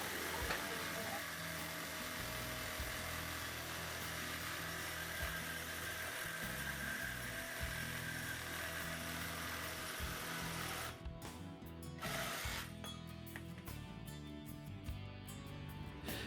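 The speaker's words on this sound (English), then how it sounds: "Here I used a reciprocating saw to cut the steel bar at the 18-inch mark" A reciprocating saw cuts through a steel bar, giving a loud, continuous buzzing drone with a steady motor hum. Near the end the drone breaks up into short gaps.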